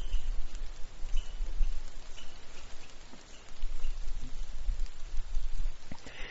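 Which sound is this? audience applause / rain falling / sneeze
rain falling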